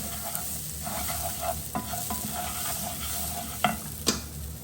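Red rice stirred and sweated in oil in a pan for a pilaf, a soft, steady sizzle with scraping stirs and a couple of sharp utensil clicks toward the end, no talk.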